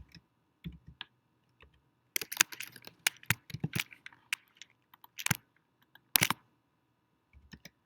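Keys tapped on a computer keyboard while a formula is typed into an Excel spreadsheet: sparse, irregular clicks that cluster into quick bursts around the middle and then thin out to a few isolated taps, quiet and close, with no talking.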